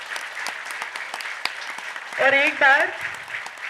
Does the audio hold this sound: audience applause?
yes